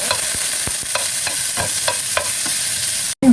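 Garlic and ginger frying in a hot pan, a steady broadband sizzle broken by regular stirring scrapes roughly every third of a second, close and fairly loud, ending with a brief cutoff and a clatter.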